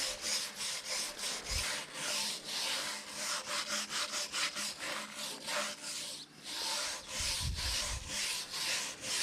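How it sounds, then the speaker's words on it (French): A simple wire brush scrubs an old stone wall to strip away lime and grime, making repeated rhythmic scraping strokes at close range, with a few soft thumps between strokes. "Je vais ensuite la brosser avec une brosse métallique toute simple pour éliminer la couche de chaux"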